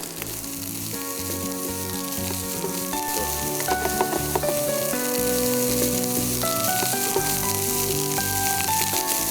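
Boiled rice frying in a pan for masala beef egg fried rice, a steady close sizzle with scraping stir strokes and utensil clinks throughout, under a continuous music bed with no talk.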